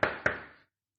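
Two sharp knocks on a door, close and fairly loud, spaced about a quarter second apart, followed by silence.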